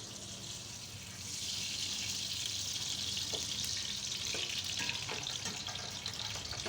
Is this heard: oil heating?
yes